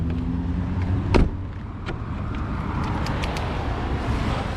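2004 Chevy Silverado pickup truck driving, a steady low road rumble with wind noise, a sharp knock or thump early on and faint intermittent clicks over the continuous drone.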